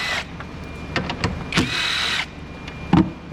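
A power tool backs out three 10mm bolts holding the alternator on a GMC 3.6 V6, with short whirring bursts and one longer spin between clanks of metal, close up with no talking.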